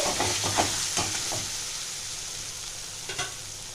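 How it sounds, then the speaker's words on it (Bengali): Masala being fried and stirred in a pan for a thin mutton curry with potato and papaya, a steady close sizzle broken by a few soft scraping stirs, with no talking. "এইটা আমি 2-3 মিনিট এটা কষিয়ে নেব"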